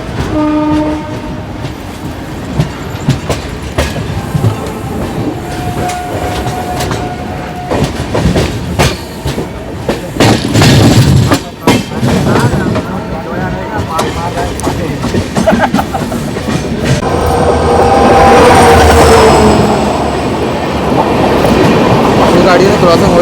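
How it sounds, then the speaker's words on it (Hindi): Heard from onboard the 22943 Daund–Indore Superfast Express between Kalyan and Surat, the train rumbles and clatters steadily as another train passes alongside, with horn blasts, a rushing swell, and voices underneath. "गाड़ी से क्रॉसिंग हो रही है अभी हमारी।"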